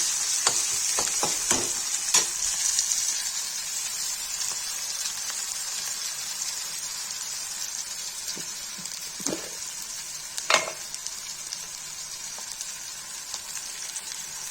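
Chopped onions sizzle steadily in a pan while a Kashmiri-style aubergine and tomato dish is cooked, a bright hiss with a few spoon knocks and scrapes and no voices.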